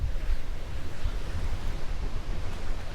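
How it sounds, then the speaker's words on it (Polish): Steady, loud roar of strong north wind, around 40 km/h, buffeting the microphone on a yacht in the Masurian lakes, with low rumbling gusts and no pauses throughout. "Bardzo się mocny wiatr zrobił."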